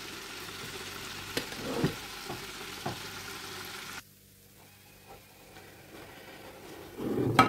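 Oil sizzles and crackles steadily as battered pollock fillets deep-fry in a deep fryer, with occasional clinks and stirring noises, quieter after a few seconds.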